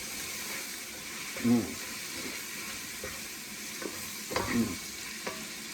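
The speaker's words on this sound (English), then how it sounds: "It's 2 red onions that I have diced. I'm going to put them in here. And we're going to start stirring this." Diced red onions stirred in a hot frying pan for chicken tikka masala, a steady soft sizzle with a few louder scrapes and knocks from the spoon against the pan, close by and without talking.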